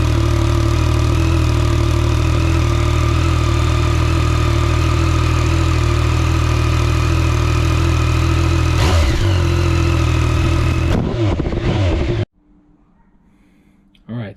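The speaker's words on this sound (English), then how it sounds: "so let's start this with the new exhaust and see what this motorcycle sounds like." A Yamaha MT-09 motorcycle fitted with a new Akrapovic exhaust idles loud and close in a steady low throb, with a couple of short revs near the end before it cuts off.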